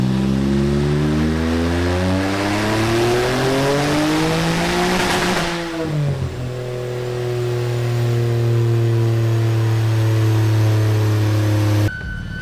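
An Infiniti Q50 with a VR30 engine, upgraded with port injection, revs hard on a dyno pull, its loud rising roar climbing steadily before the throttle lifts and the engine settles into a high steady drone.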